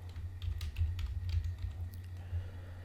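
Quick bursts of keystrokes on a computer keyboard while entering a folder name in office software, light uneven clicking over a low steady hum, close and quiet, no voices.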